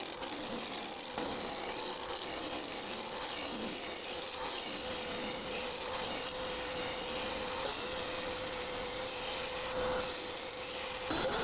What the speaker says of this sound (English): start roughing things down with the spindle roughing gouge